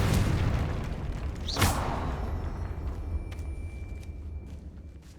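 A Confringo spell from Hogwarts Legacy goes off as a single sharp explosive boom early on, then fades into a low rumbling tail over steady ambient background.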